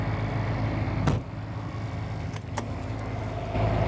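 A steady, low drone from an 8,000-watt diesel generator on a 2023 Newmar Super Star 3727 motorhome runs throughout, with a couple of faint clicks and knocks over the constant hum.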